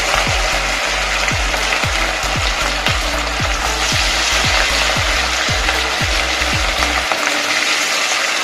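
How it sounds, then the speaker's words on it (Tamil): Cauliflower pieces deep-frying in hot oil for gobi manchurian give a loud, steady, dense sizzle that lasts until near the end, over a soft rhythmic low thumping. "கொஞ்சம் கொஞ்சமாக போட்டு ஃப்ரை பண்ணி எடுத்துக்கோங்க."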